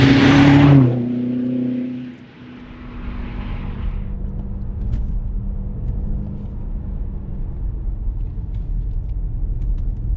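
A BMW M5 Competition's 4.4-litre twin-turbo V8 gives a brief loud rev burst at the start, then settles into a steady low rumble that carries on to the end with no one talking.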